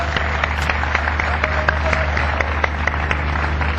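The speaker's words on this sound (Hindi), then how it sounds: "ताली बजा लेते।" Audience in a hall applauding, a steady patter of many hands clapping at moderate distance, sustained and even with no clear voices over it.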